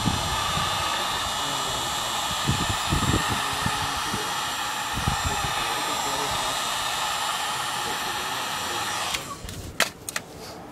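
A heat gun blows a steady, loud rushing hiss while warming tint film onto the reverse light of an EcoBoost Mustang, with handling knocks near the end as the airflow eases.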